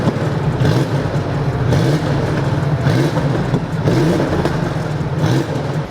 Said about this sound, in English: Looks like they're about to start up the RWB Porsche,